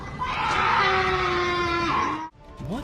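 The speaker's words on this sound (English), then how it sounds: "many have said that the source of the sounds is only a mountain lion" A drawn-out, wavering scream attributed to a mountain lion, loud and close, holds for about two seconds, cuts off abruptly, then a shorter rising cry follows.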